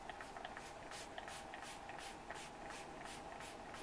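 A fine mist sprayer puffs white paint in a quick regular series of short hissing bursts, about a dozen in a row, soft and close against low background hum.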